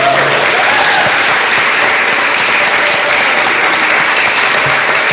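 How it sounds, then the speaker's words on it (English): An audience at a meet-the-candidates forum applauds both candidates, a sustained, even round of clapping filling the room with no speech over it. "Let's please give both of our candidates a round of applause."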